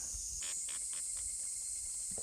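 A hand pump spray nozzle fitted to the end of a rubber tube, part of a homemade water-cooling rig for motorcycle riders, gives a series of short, evenly spaced hissing sprays over a steady background hiss.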